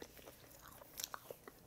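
Someone bites and chews a crisp homemade waffle. A few faint crunchy bites and soft chewing sounds come from close by in a quiet room, with no speech.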